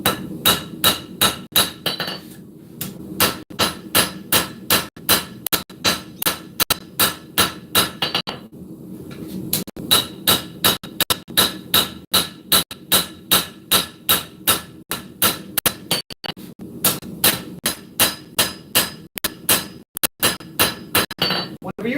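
Steel being hand-forged with a hammer to smooth and even out an edge: steady, rapid metallic blows ring out close and loud in long runs, with a few short pauses between bursts.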